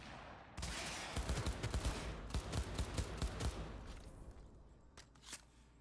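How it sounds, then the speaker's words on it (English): Rapid bursts of gunfire in the video game Cyberpunk 2077, loud and close, with overlapping shots rattling in an irregular rhythm for several seconds before thinning out to a few isolated cracks. "Cover can protect you from enemy fire."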